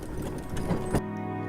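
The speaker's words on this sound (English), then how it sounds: "So is it true that these horses will get more tired than the mules?" Horses walk along a pioneer wagon trail in a historical reenactment, their hooves clip-clopping in an uneven rhythm at close range for about a second before the sound stops abruptly.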